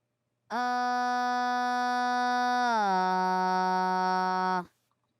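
A single sustained synthesized backup-vocal tone holds steady, then glides down in pitch and holds again before stopping abruptly; clean, buzzy and harmonically rich.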